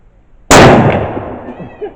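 One loud, sharp report comes from a 1942 Turkish Mauser rifle firing a soft point round at a headlight. It is followed by a long, rumbling decay with faint scattered noises as it fades.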